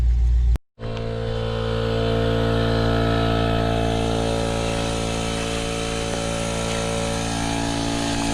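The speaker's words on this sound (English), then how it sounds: "Gonna move it down to the air compressor, put some air in it." An air compressor runs loudly and steadily while inflating a tire, with a constant low mechanical drone that continues after a brief break near the start.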